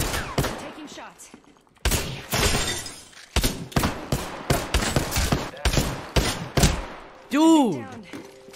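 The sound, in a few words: gunfire in video game Apex Legends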